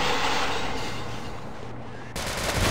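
Enemy gunfire in the Half-Life Sven Co-op video game: a dense, continuous burst of loud shots blending into a roaring wash that dips briefly, then surges back.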